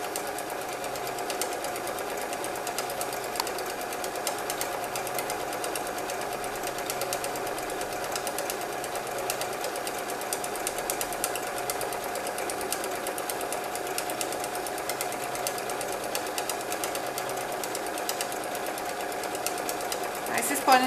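A sewing machine quilts a spiral pattern on a quilt, running in one long, continuous, steady mechanical hum close by for the whole stretch with no breaks.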